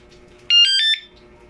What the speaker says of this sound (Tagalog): So the moment na hawakan natin ito, mag-a-alarm siya.